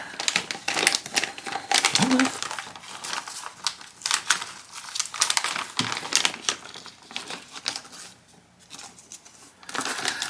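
Plastic packaging tray crinkles and crackles as small rubber steering rack boots for a model DeLorean kit are pried out, irregular close rustling and snapping bursts throughout, with faint clicks.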